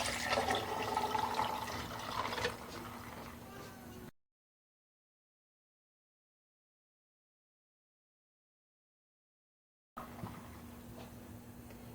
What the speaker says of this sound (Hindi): अब हम इसमें 2 गिलास पानी डालेंगे।